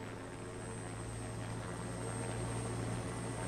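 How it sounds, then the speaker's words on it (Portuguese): Helicopters arriving in a cutscene of the PlayStation game Parasite Eve, a steady low rotor drone with a thin high whine, continuous and fairly quiet with no talk. "Chegando alguém aí. Os helicópteros."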